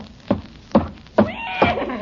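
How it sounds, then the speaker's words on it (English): A horse neighing and whinnying as a radio comedy sound effect for a horse loose in a kitchen, four loud rising whinnies in quick succession, close and clear with no talk over them. "Good heavens, there is a horse in the kitchen."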